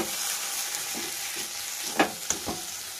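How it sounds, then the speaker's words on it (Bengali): A fish chop mixture being mixed with chopped coriander by hand, soft squelching and faint scraping over a steady background hiss, with a few sharper knocks toward the end. "কুচনো ধনেপাতা দিয়ে আবারও আমি ভালো করে এটাকে মিশিয়ে নেব।"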